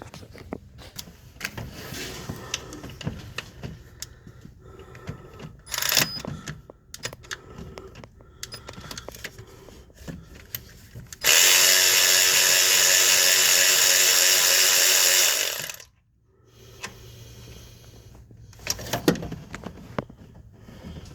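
Twelve-millimeter tensioner bolts come off a 2004 Toyota Sienna engine during timing belt removal: scattered close ratchet clicks and taps, then a loud steady power-tool whir lasting about four seconds, followed by a few more clicks, with no talking.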